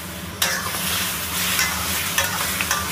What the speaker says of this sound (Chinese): 现在我们就可以把茄子下锅